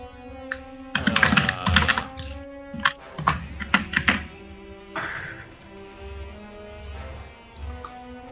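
Keys clatter on a computer keyboard during a game showmatch, bursts of quick taps and heavier thunks spread over several seconds, close and fairly loud, with no voices.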